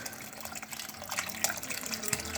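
Campbell's beef broth pours from a carton into a pot, a close, steady gurgling splash of liquid running for a couple of seconds without talk.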